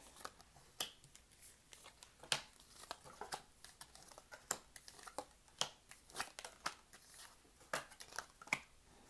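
Tarot cards are shuffled and laid out by hand: a quiet, close run of crisp card snaps, flicks and slaps in an irregular rhythm, with no one speaking.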